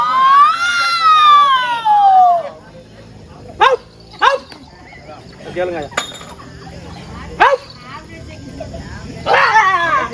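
Performers in a Tamil therukoothu street-theatre play imitate dogs barking and fighting, with a long whining howl followed by sharp, scattered yelps and barks, loud and close, with brief speech between them.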